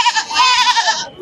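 Goats at a village sheep and goat market in Loni, Maharashtra give one loud, close, wavering bleat lasting about a second, alone without talk.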